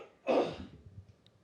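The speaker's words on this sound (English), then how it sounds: "I had to clear my throat" A single short throat clearing, close and fairly loud, followed by quieter rustling and faint background sounds.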